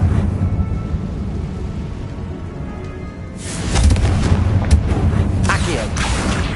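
A Confringo spell explosion in Hogwarts Legacy on PS5 lands as a broad booming burst about halfway through, over a steady rumbling game ambience.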